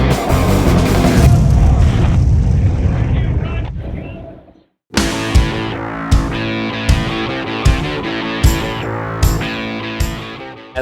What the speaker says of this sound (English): the pyro sets off a strafing run and a big explosion